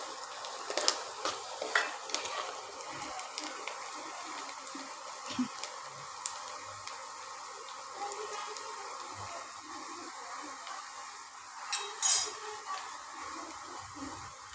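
Onion sautéing in a pan until browned and red for restaurant-style cabbage manchurian, a soft steady sizzle with occasional stirring scrapes and clinks throughout, fairly quiet and with no talk.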